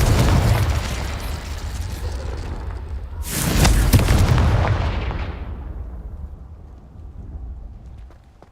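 A Confringo blasting curse explodes in Hogwarts Legacy with a sharp, loud boom a little past three seconds, following a rumbling stretch and fading into a long decaying tail that thins to near quiet.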